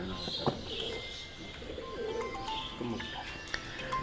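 A Teddy breed pigeon in a breeding setup gives soft, low cooing in short repeated phrases, fairly close, over light background chatter and bird calls.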